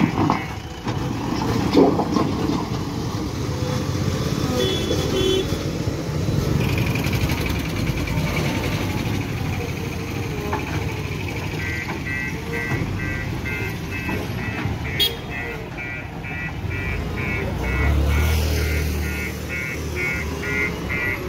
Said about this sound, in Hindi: छोटी सी गली है तो भी ट्रैफिक बहुत ज़्यादा है